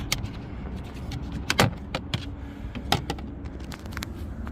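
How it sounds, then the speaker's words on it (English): A flathead screwdriver pries a side panel off a Toyota Prius, giving a string of sharp clicks and plastic snaps at close range with a few louder pops, no talking. "I'm going to start by taking off this panel on the side here. Just get in behind with the flathead, start popping it off."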